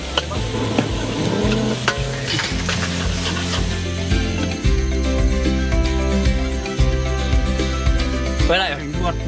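Nasi goreng stir-fried in a pan by a chef, with steady sizzling and scraping of the spatula under continuous background music, loud and close throughout.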